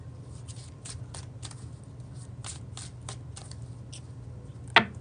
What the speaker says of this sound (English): A few more shuffles here of the first deck.